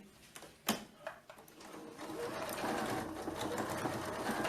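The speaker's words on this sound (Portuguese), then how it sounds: "Tô aqui ajeitando a costura e vou rebater." A sewing machine topstitches a bag seam, starting with a few short clicks and bursts before running into a steady, continuous whirring stitch near the microphone.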